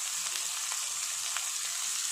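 Chopped onions frying in a pan for a mushroom masala curry, a constant bright hiss of oil with faint crackles, close and even throughout.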